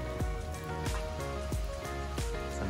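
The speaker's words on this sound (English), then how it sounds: "It's a nice rain that we're getting here" Steady rain falling outdoors, a soft continuous patter of drops on surfaces, fairly quiet and close, with a few brief swishing noises over the shower.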